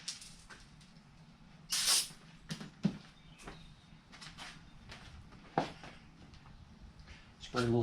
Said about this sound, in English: Spray a little brake clean on a rag.